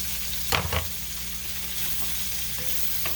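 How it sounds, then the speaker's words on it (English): Sliced apples fry in butter in a pan, a soft steady sizzle broken by a couple of brief scraping stirs, quiet and close with no talking. "Give that a little stir"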